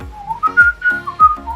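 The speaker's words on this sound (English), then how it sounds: "that's not even the right movie that you're whistling there, or the right song." A person whistles a Lion King tune, a short melodic phrase of clear sustained notes with small glides, close and alone with no talk.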